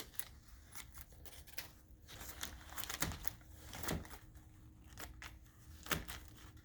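Quiet, irregular snips and crinkles of scissors cutting open a plastic bag in short bursts, with brief pauses between.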